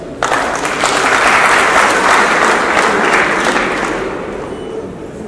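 Loud, dense applause from a large audience at an official launch event, a continuous wash of clapping that swells in the first seconds and then slowly fades toward the end, with no speech over it.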